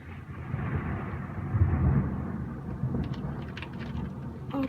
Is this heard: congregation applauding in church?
no